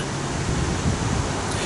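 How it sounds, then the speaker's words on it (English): A waterfall in Riverside Park in St. Cloud, Minnesota, roars as a dense, steady rush of broadband noise, loud and unbroken with no voices. "as you can hear the noise behind me, they do have a waterfall here"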